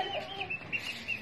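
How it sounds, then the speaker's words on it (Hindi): A hen clucks up close in short, slightly rising calls after flying in, with no one talking. "जबरदस्त फ्लाइंग करके आई ये मुर्गी।"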